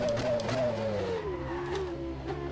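A McLaren MP4/13 in the rFactor 2 racing game brakes hard with the rear wheels locking, the engine note dropping steadily under a continuous tyre-scrub roar, loud and close throughout.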